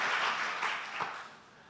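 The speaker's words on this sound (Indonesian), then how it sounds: "Beri tepuk tangan dulu untuk Tuhan kita." A church congregation claps during a service, a brief burst of crowd applause that starts full and fades away within about two seconds.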